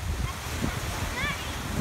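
Surf rolling onto the beach at Lido Key in Sarasota, Florida, a steady wash of waves mixed with wind buffeting the microphone, with faint voices in the background.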